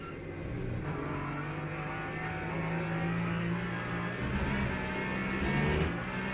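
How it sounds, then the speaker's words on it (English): A Peugeot race car in a racing video game pulls away under a steady droning engine, the hum rising gradually as it accelerates without pause. "And off goes the Peugeot."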